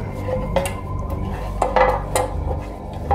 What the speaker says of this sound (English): Let's oil up the loaf pan.